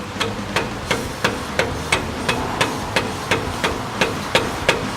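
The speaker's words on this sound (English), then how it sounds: "Tap the alternator in" A hammer taps an engine alternator into place during engine disassembly, striking about fourteen sharp, evenly spaced blows close up with no talking.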